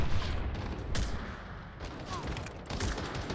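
Rapid bursts of gunfire in the competitive first-person shooter Battle Teams 2, dense and continuous with sharp transients, with low voice chatter underneath.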